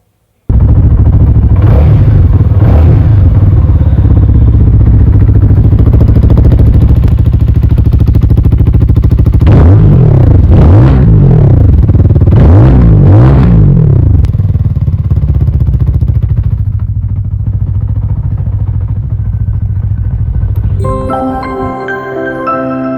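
A CFMOTO motorcycle engine runs loud and close, idling with a steady throb, then revs in several sharp blips midway before settling back to idle; no speech.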